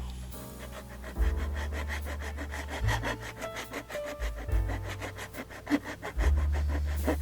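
A hand file rasps against the metal body of a Kiha 82 model train in long, even back-and-forth strokes, close and fairly quiet, with short pauses between passes.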